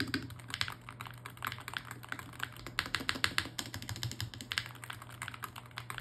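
Continuous typing on a Pulsar PCMK 3 HE keyboard with PBT keycaps, rapid clacky keystrokes in an uneven stream at close range, fairly quiet, no speech.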